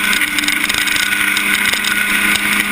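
A historic Formula Ford race car sprints around Thruxton circuit with its foot-to-the-floor engine droning loud and steady, a buzzy close pass that shows no breaks.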